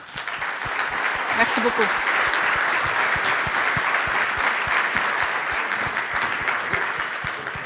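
An audience claps steadily for a panel of five, a sustained, even round of applause from a moderately sized room, with someone briefly speaking over it near the start.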